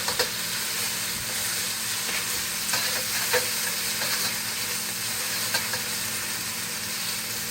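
Shrimp stir-fry in a hot pan for Yangchow fried rice, a constant loud sizzle and hiss with occasional scraping clicks as the pieces are moved around.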